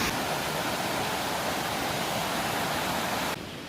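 A river on the Appalachian Trail in Vermont rushes loudly and evenly at a trail crossing, a dense constant roar that drops off abruptly at the end.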